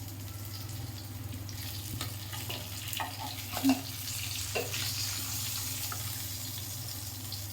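Fish fries in a pan with a steady, soft sizzle under a low hum, with a few faint clinks and scrapes as it cooks, no talk.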